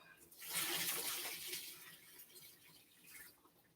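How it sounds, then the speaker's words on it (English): Excess liquid from fish being prepared for stuffed escovitch snapper is poured into a pot to drain, a steady splashing pour that swells early then tapers to a softer trickle, close and alone. "so let me pour the excess in here, put it on top of this pot so it can drain"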